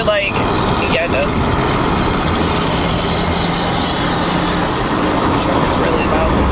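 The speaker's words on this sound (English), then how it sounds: "The truck is really loud." A loud, constant engine rumble fills the scene, a semi truck idling or passing close by, with a brief hiss of air brakes.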